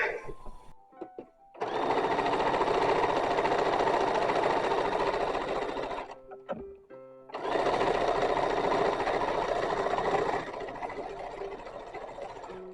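Pieces of a baby petticoat run through a sewing machine in two long bursts of rapid, loud, steady stitching, separated by a short pause with light handling clicks.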